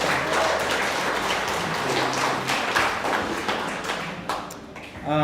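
Many hands clap continuously at a memorial service, steady and full, with a voice briefly rising over the tail of the applause.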